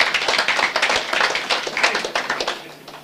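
Short burst of audience applause at a corporate energy presentation, many hands clapping together at close range, then tapering off over a few seconds.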